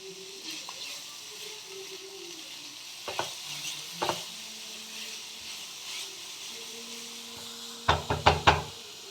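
Vegetables with grated carrot frying in a pan, a soft background sizzle broken by stirring scrapes and a quick burst of several sharp knocks of a spoon on the pan near the end.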